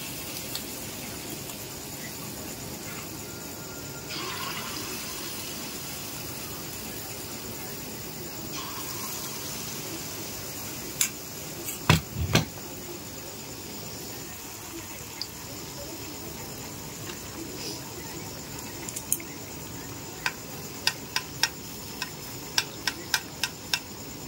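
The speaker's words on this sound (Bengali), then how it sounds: "চলো এবার ভাজবো।" Banana malpua batter fries in hot oil with a soft, continuous sizzle, joined later by scattered sharp clicks and taps from a utensil.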